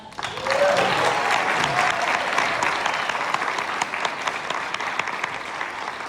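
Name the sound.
audience applause after keynote speech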